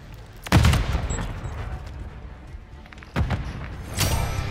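In Call of Duty MWIII, a Semtex grenade goes off with a sudden loud blast, followed by scattered gunfire and a second sharp explosion later, then a further burst near the end.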